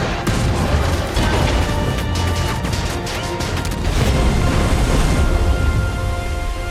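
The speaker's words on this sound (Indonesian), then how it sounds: "Grey Wolf langsung meledak hancur lebur oleh tembakan beruntun senjata Mark 12 kaliber 5 inci." U-boat blowing apart under rapid 5-inch Mark 12 naval gunfire in the war film Greyhound, a loud, dense wall of booms, crashes and rumbling blasts that carries on without a break.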